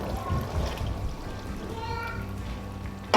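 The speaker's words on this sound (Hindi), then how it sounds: "और इसके अंदर आप चने ऐड कर देंगे।" Chickpeas tipped into a pan of cooked, fried-down masala for Punjabi-style chana masala, giving a steady soft pouring and sizzling wash for a few seconds.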